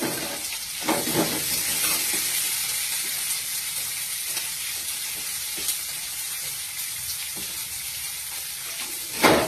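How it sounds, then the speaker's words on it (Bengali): Steady, loud sizzling of chopped onion frying in a pan, with scattered scraping stirs throughout and a sharper clatter at the end. "পেঁয়াজ কুচিটা খুব ভালোভাবে একটু ভাজা ভাজা হতে হবে।"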